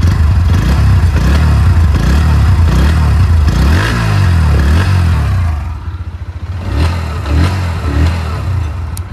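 A 2023 Bajaj Pulsar NS 125 motorcycle engine revs hard several times, rising and falling close by, then drops back to a rough idle before blipping again.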